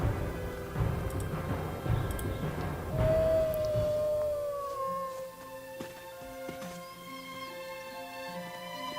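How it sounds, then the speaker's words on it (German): A dog howls in the video game Gothic 3, a long rising and falling wail with a drawn-out tone, followed by softer in-game ambience and faint musical tones. "Ein braver Köter."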